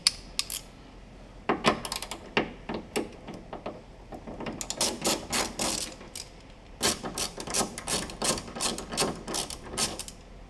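Ratcheting clicks and metallic tool bursts come in repeated runs while two bolts are removed on a Suzuki Jimny JB74 during a roof ladder install, close and fairly loud with brief pauses.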